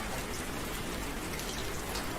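Raindrops pour down in a dense, even hiss of patter that stays steady and close throughout, with no voices.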